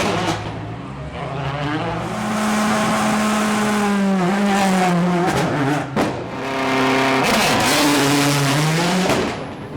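Night rally cars race through a special stage among villages and vineyards in Champagne, engines roaring loud and close as they rev up and shift through gears, with one car sweeping past and another following.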